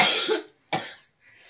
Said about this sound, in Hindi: बगल में खांसी हो गया किसी को।